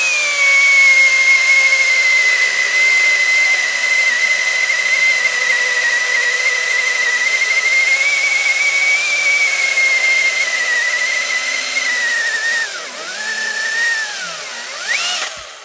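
A Husqvarna B330X battery chainsaw cuts with a steady, loud electric whine and a hiss of chips. The pitch holds level for most of the cut, then sags and wavers near the end as the blade finishes.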